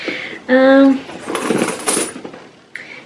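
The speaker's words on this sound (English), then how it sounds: "as you can hear, that is all the coins that I have seen at the bottom of my bag" Coins at the bottom of a bag clink and jingle as they are shaken and jostled together, a brief metallic rattle with a clear ringing tone at the start.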